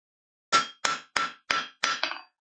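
A hammer strikes hot steel while a blacksmith forges a knife, five sharp, ringing blows in quick succession, close and clear against silence.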